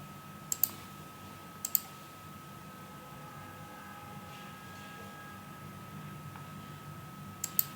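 A computer mouse clicks in Solidworks: three separate quick double clicks, near and crisp, spread over a faint steady room hum, with no talking.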